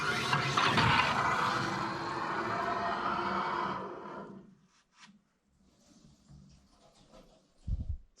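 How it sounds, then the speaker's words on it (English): Water from a freshly repaired, reused plumbing fitting pours into a bucket, a loud rushing splash for about four seconds that then cuts off, followed by faint drips and a short low thump near the end. "it's leaking in the bucket"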